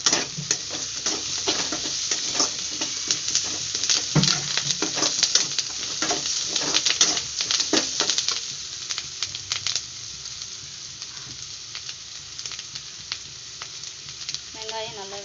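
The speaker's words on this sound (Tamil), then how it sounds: "வெங்காயம் நல்லா வதங்கி வரட்டும்." Onions and curry leaves sauté in a pan for a fish curry, giving a steady bright sizzle with frequent stirring scrapes, busier in the first half and settling into a softer continuous fry later.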